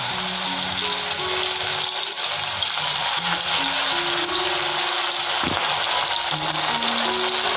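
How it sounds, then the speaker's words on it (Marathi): Chicken lollipop pieces deep frying in hot oil in a kadhai, a steady loud close hiss and bubbling crackle throughout, with faint background music tones and no talk. "आता आपण एक पीस टाकून डीप फ्राय करून घेऊ"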